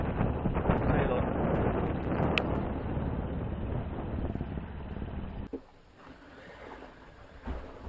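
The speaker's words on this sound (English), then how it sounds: "The wind came up from the north." Wind blows hard on a sailboat at sea in the Pacific, roaring across the microphone before easing to a quieter gusty rush near the end.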